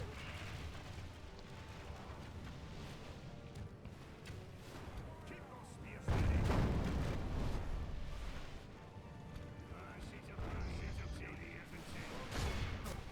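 Artillery and gunfire from a Lord of the Rings strategy game, in a Dwarfs of Erebor campaign, rumble fairly faintly as low distant booms, with a heavier burst of fire midway and a voice speaking over the battle.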